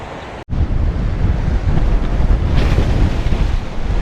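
Strong, steady wind roars across the microphone on a rocky beach of an island in Taiwan, with surf rumbling underneath, loud and continuous after a brief cut at the start.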